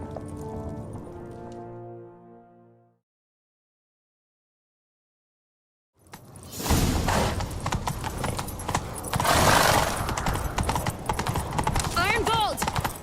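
Horse hooves gallop in rapid clip-clop through Witcher 3 Wild Hunt, loud and steady after a tonal passage and a brief silence, with voices talking over the ride.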